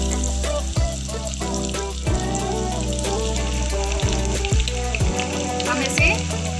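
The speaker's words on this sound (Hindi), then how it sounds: "अब हम इसे डीप फ्राई करेंगे। तेल हमारा गर्म हो चुका था, हमने इसमें ये डाल दिया है।" Paneer popcorn pieces deep fry in hot oil with a steady, loud sizzle and bubbling, broken by a few sharp knocks and clatters of utensils.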